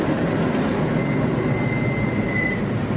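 Train brakes squeak in a high, thin sustained tone over a loud, steady rumble of rolling rail cars, heard during a stormy tornado-warning night in Indiana.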